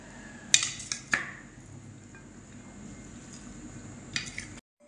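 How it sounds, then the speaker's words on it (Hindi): Chana chaat ingredients being mixed with a metal spoon in a bowl, with a few sharp clinks and scrapes at the start, a quiet stirring stretch, then more clinks before it cuts off. "अभी इन सब चीज़ों को हम अच्छे तरीके से मिक्स कर लेंगे"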